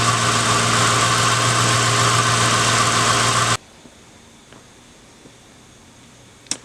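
Car engine idling in a workshop lab, a loud steady hum with a constant low drone that cuts off abruptly partway through, leaving a quiet room with a few faint clicks and a small knock at the end.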